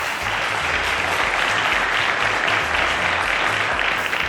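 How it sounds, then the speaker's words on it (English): Sustained applause from a studio audience for a contestant at a school quiz semi-final on a televised science competition, steady dense clapping throughout with a faint low hum beneath. "A round of applause to Uren."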